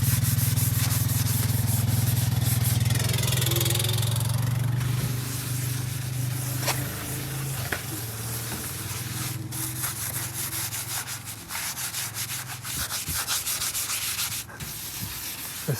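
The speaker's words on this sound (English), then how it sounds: "We'll get all this oxidation off, or some of it, with the Brillo pad" Steady rough scrubbing as a Brillo pad rubs oxidation off the original paint of a 1969 Ford F100 Ranger pickup, with rhythmic back-and-forth strokes over a low hum that fades after a few seconds.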